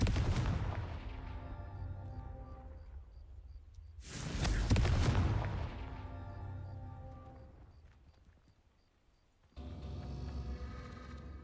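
A Confringo explosion spell from the video game Hogwarts Legacy goes off twice, each a loud, booming blast that decays slowly under ringing, tonal game music, followed by a sustained rumbling swell.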